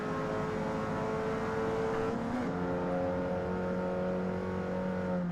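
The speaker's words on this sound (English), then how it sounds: "It's an MR2 turbo SW20, so it's a 2-liter turbo mid-engine, so I can hear the engine behind my head here." A 2-liter turbo mid-engine Toyota MR2 Turbo SW20 drones in Gran Turismo 7, its engine note humming steadily with rich harmonics and shifting pitch around mid-clip, loud and continuous with no talk.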